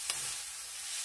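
Sausage browning in a pan for gravy, a steady bright sizzle of frying fat filling the short moment, close and even, with one faint scrape early on and no voices.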